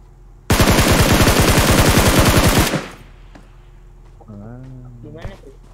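A loud, rapid burst of automatic gunfire in a video game rattles for about two seconds, then stops, followed by a brief voice.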